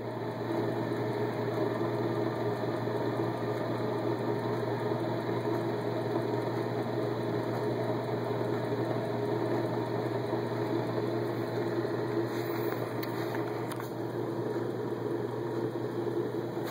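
A Bedini SG energizer wheel spins steadily, giving a constant electrical hum and motor-like drone with faint high whine, no voices over it.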